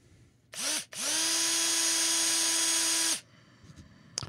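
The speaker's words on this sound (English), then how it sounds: "I've been drilling holes in the plastic" A power drill drilling holes in plastic whines in a short burst, then runs steadily for about two seconds before stopping, close and clear, with faint clicks after.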